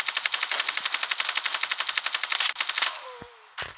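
Rapid automatic gunfire in the game Standoff 2 rattles in a fast, even burst for nearly three seconds, then stops; a short sharp shot or impact follows near the end.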